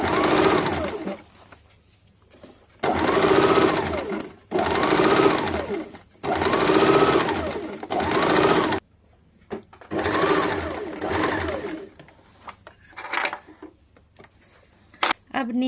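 Five bursts of close, steady sewing machine stitching run along a blouse strip, each a couple of seconds long with quiet gaps of fabric handling between them.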